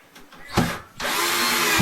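Power drill driving screws into drywall during a hole repair, a short whir then a longer steady high-pitched run, close and loud.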